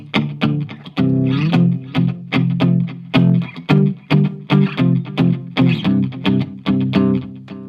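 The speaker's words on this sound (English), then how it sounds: "When you add a little bit of delay, it sounds like this." An electric guitar strums a rhythmic chord groove through a delay effect, with repeating echoes trailing each loud, punchy stroke in a steady pattern.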